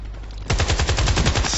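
Machine gun firing in the video game Battlefield Play4Free: after a brief lull, a loud, close burst of rapid automatic shots rattles on continuously in an even rhythm.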